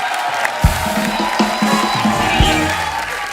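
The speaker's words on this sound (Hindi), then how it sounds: "एक बार जोरदार तालियां हमारे शार्क्स के लिए," A television studio audience cheers and claps in a loud, continuous crowd roar, with a few heavy thumps and shouts mixed in.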